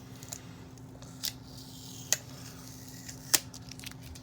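Plastic packaging is being removed from a Barbie doll: a few sparse, sharp snips and crinkles spaced over a few seconds against a quiet room hum, with no talking.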